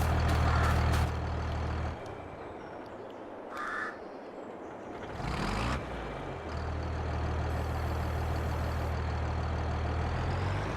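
Farming Simulator 22 tractor engine drones steadily, cuts out briefly, then resumes its low continuous hum while reversing, with a crow cawing and a few clicks and a faint beep scattered over it; nobody speaks.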